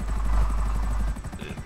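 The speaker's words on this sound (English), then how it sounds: "That is how much I love this helicopter." An Akula stealth helicopter flies in GTA Online, its rotor throbbing in a fast, loud, close pulse that drops away in the final moments.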